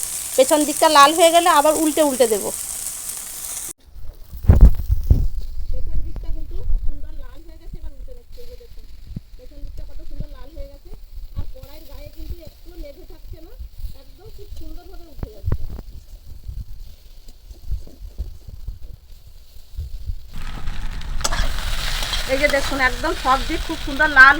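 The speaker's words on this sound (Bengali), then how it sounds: "এবার খুন্তি দিয়ে এরকম কড়াই চারিদিকে দিয়ে দেবো মাছগুলোকে" Fish pieces stir-fried in a wok with a spatula for a Bengali lunch, giving a steady sizzle with scraping stirs, loudest at the start and end, while a person talks through the quieter middle.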